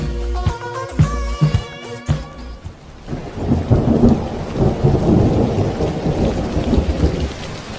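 Heavy rain and rumbling thunder in the video game Minecraft. Brief tonal game sounds come first, then a dense, loud downpour with deep thunder rolls that continue to the end.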